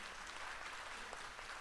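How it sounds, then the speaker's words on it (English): An audience at a business panel event applauds the speakers in a short, soft, even burst of clapping. "Let's give them a round of applause, please."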